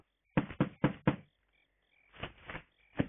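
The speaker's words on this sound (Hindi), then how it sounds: "फिर से कोई खटखटा रहा है" Knocking on a door, four quick firm raps in a row, a brief pause, then three more spaced knocks, close and clear against a silent room.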